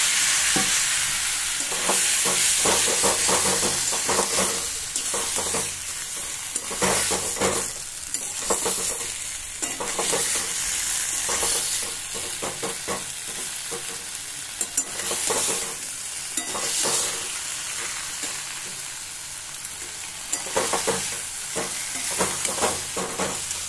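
Curry in a pan sizzles steadily after a splash of water is added, with a constant frying hiss and periodic scraping stir strokes close by, no talking.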